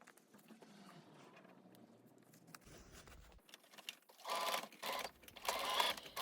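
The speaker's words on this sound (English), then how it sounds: "Now I'm just going to top stitch down along the top of the mask and the bottom of the mask." A domestic sewing machine top stitches along the edge of a fabric face mask, running in two short loud bursts after a quiet stretch of handling noise.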